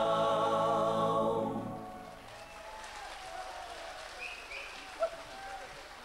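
An audience applauds at a Slovenian folk concert as the music fades in the first seconds, leaving a steady, moderately distant patter of clapping.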